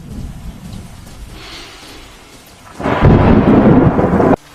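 A nighttime thunderstorm with heavy rain, a steady rain hiss and low rumble building into a loud, close crack and roll of thunder over a downpour before cutting off abruptly.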